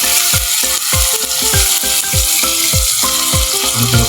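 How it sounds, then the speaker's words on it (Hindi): Tomatoes fry in a pan under an even sizzle, broken by a fast, regular series of clanks and scrapes from a utensil stirring against the metal. "थोड़ा थोड़ा फ्राई कर लेना टमाटर"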